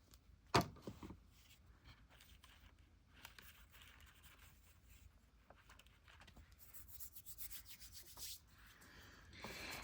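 Paper is rubbed flat by hand while being glued into a junk journal made from a converted book, a soft, continuous close-up rubbing and scraping with one sharp knock near the start.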